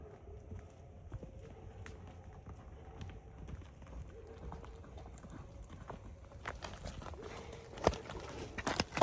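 Cow hooves clopping and shuffling over wet farm ground at a steady walking pace, close by, with light rustling and a few sharper knocks near the end.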